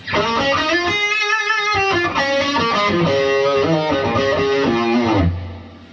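An electric guitar plays through the classic channel of an Amp1 with the boost on, using only reverb and delay. It sounds loud, overdriven and sustained, with a run of melodic notes that rings out and fades at the end.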